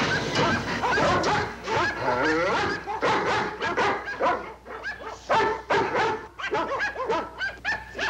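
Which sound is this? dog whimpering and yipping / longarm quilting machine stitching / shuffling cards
dog whimpering and yipping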